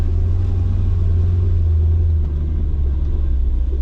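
An M113 armored vehicle engine idling while running rich, a loud, steady low rumble with a deep throbbing drone, close by and without talking.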